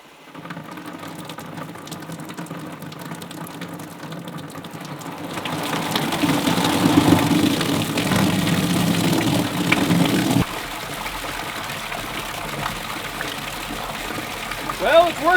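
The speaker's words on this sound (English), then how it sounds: "we're going to crack this open just to kind of see the water flow and see what happens." Water sprays from an opened home-built fire sprinkler into a bucket: a quiet background hiss swells to a louder, steady splashing rush at about five seconds, then drops back to a lighter trickle for the remaining seconds.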